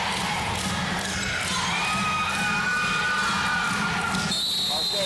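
Athens fans cheer and shout in a small high school gym during a basketball game, a loud, dense crowd roar with whoops and sneaker squeaks, lasting throughout.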